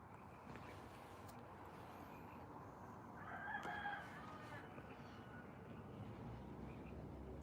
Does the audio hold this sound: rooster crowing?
yes